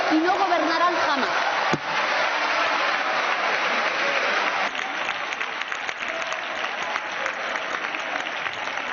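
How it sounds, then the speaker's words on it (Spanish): Parliamentary benches break into sustained applause in a legislative chamber, steady and dense clapping from many members throughout, with voices faintly mixed in beneath. "Y ahí toda la bancada aplaudiendo,"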